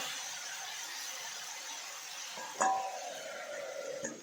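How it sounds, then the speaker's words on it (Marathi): A lid set down on a cooking pot of Maharashtrian ambadi greens and dal, giving one brief metallic clink with a short ringing tail against a steady background hiss, then a fainter knock just after. "त्यावर झाकण ठेवणार आहोत."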